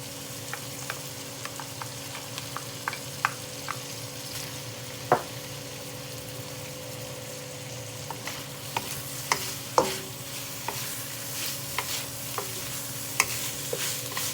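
Fish cooks in hot oil in a pot for Jamaican ackee seasoned rice: a steady sizzle runs throughout, broken by scattered clicks and scrapes of a utensil stirring against the pan, with no talking.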